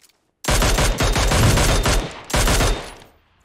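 Rapid video game gunshots fire in two loud automatic bursts, a long volley then a shorter one after a brief gap, crisp and close with no talking.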